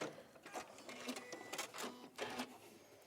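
A sewing machine stitches a double row along a drawstring seam on a fold, running in short bursts with brief pauses between runs at moderate loudness.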